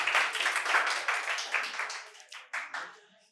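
Loud applause from a quiz competition audience at a medical college hall, dense clapping that swells and then tapers off toward the end.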